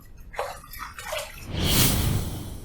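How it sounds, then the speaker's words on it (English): Running water splashes as a razor is rinsed mid-shave, starting as a light trickle with drips and swelling into a steady, close rush of flowing water. "Let's rinse."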